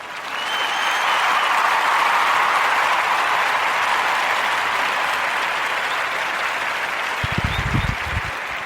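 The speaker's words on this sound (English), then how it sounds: "Give a warm narrative podcast round of applause for young Mrs." A studio audience applauds in a steady, dense wash of clapping that holds throughout, with a few louder claps breaking through near the end.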